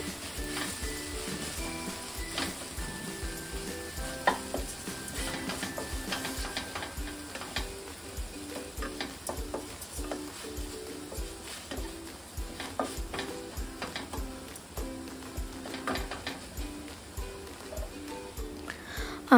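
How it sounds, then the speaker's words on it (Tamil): Tomatoes sizzle steadily as they sauté in a pan, with frequent clicks and scrapes of a spoon stirring throughout. "டொமேட்டோஸ்லாம் வந்து நல்லா வதங்கிடுச்சு"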